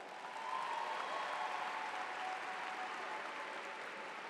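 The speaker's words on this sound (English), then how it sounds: "Let's give them a round of applause." A graduation audience at a high school ceremony applauds after the color guard presents the colors, a steady, even roar of many hands clapping from a distance that holds without a break.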